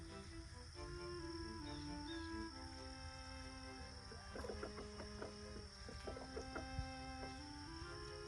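Chickens released into a garden cluck softly in a steady outdoor hum, with scattered short calls from a few birds at a moderate distance.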